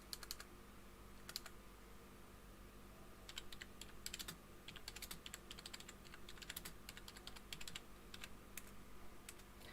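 Quiet clicking of a computer keyboard being typed on, in irregular bursts of keystrokes with short pauses, faint against a low steady hum, no voices.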